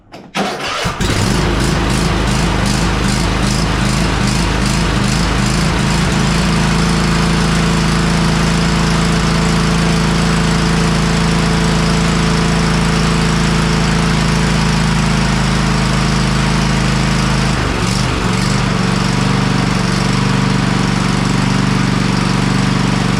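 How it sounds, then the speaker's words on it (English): A Cub Cadet XT1 riding mower with a bad fuel leak cranks over and fires up, then runs steadily at a loud, close idle with a low droning hum for the rest of the stretch, with no talking. "let me crank it up one more time and let it run for just a second."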